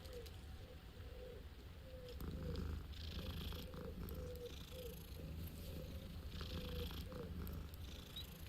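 Continuous close cat purring from a cat in the Hogwarts Legacy video game, a steady low rumble lasting several seconds with soft game ambience behind it.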